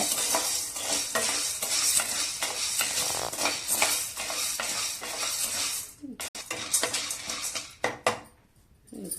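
Corn and seeds dry-roast in a pan while a spoon stirs them, making dense rattling and scraping against the metal for several seconds before thinning into a few sparse clinks and near quiet.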